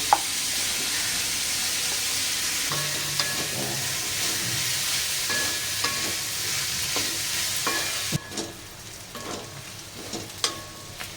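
Onion roasts in a pan for a two-kilogram batch of Malvani chicken masala, giving a steady, close, loud sizzle with occasional stirring scrapes and knocks. The hiss eases somewhat toward the end.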